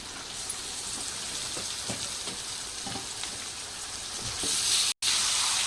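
Chicken frying in a pan with mint and turmeric, a steady loud sizzle with faint scraping stirs throughout, swelling brighter near the end with a momentary dropout, no talk.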